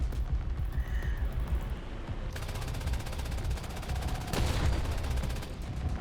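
Machine gun fire in the War Thunder video game, distant rattling bursts over a steady low engine rumble, fairly faint throughout with one louder burst near the end.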